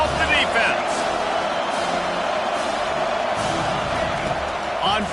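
A large football stadium crowd at an Oregon State vs Oregon game roars steadily through a late fourth-down defensive play, a dense sustained din with a commentator talking over it.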